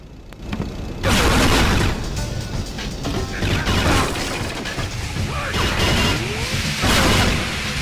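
Fireworks exploding in a 007 action video game, a loud dense run of crashing blasts and cracks that starts suddenly and continues with bursts throughout.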